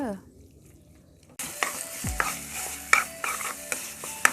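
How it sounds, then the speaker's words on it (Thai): After a quiet moment, curry paste for a pumpkin and chicken coconut curry hits a hot pan and bursts into loud sizzling, then is stir-fried with rhythmic scraping strokes and clanks of a spatula. "ผัดพริกแกง"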